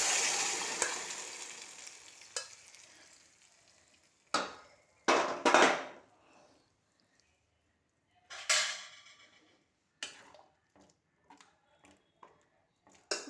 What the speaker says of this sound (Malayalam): അതിനകത്ത് നമുക്ക് ഈ മത്തങ്ങ കറി അതിലേക്ക് പകരാം.